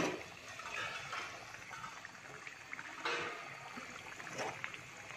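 Dhaba style chicken gravy cooks in a pot in a village kitchen, giving a steady wet bubbling and sizzling hiss with a few louder splashy bursts, close and without talk.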